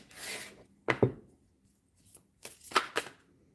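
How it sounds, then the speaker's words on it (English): A deck of playing cards is shuffled up close, with a soft riffle followed by several crisp, quick bursts of card flutter and brief quiet gaps between them, with no one speaking. "I shuffled the cards"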